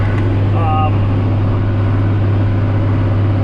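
A tractor pulls a ripper through gravelly ground during spring tillage, its engine droning in a loud, close, steady tone with a strong low hum that runs unbroken the whole time.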